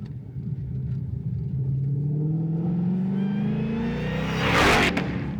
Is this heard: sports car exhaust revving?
yes